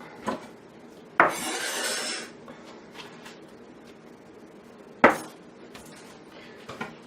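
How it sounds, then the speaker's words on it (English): A knife chops taco filling finer on a wooden board. A few sharp, separate knocks and a short scraping burst sound close by, with quiet gaps between them. "Make it a little finer chop."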